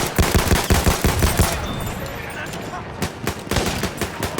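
An RSC SMG fires in Battlefield 1: rapid, punchy single shots in a rhythmic string, then a short lull, then more shots, all loud and close.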